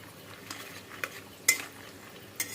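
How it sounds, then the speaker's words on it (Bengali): Cashews and peanuts being dry-fried together in a pan, heard as soft scraping and a few light clinks of a stirring spoon at uneven intervals over a faint background hiss, quiet and close, with no talking. "এখন বাদামের সঙ্গে কাজুটি ভালো মতো ভাজা হইব"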